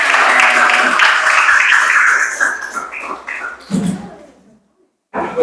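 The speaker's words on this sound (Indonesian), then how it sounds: "Tepuk tangan." Applause in a classroom after group presentations, a dense burst of many hands clapping that fades over about four seconds into scattered claps and murmuring, with a voice rising again near the end.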